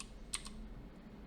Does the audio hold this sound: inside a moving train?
no